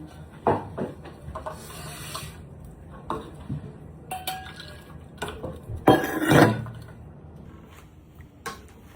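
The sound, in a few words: stirring Gujarati kadhi in a pot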